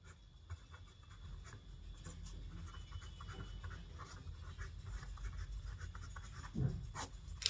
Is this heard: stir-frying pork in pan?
no